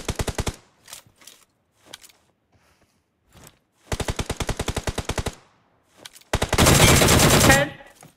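Gunfire in the mobile battle royale game BGMI, with loud, close bursts of rapid automatic shots and short separate volleys, ending in a long dense barrage before quiet.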